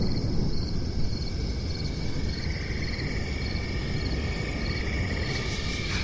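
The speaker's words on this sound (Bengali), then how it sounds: "আর রাস্তার পাশ দিয়ে জঙ্গল থেকে ঝিঝি পোকার এক টানা ডাক" Crickets by a jungle road keep up an even, continuous chirring trill at moderate loudness over a dense low rumble of background noise, with no voices.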